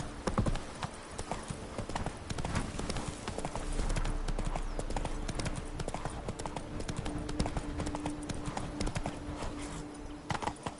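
In-game galloping hoofbeats of the horse Roach in the video game Witcher 3, a fast continuous clip-clop rhythm with ambient game sound, steady and moderately loud for the whole stretch.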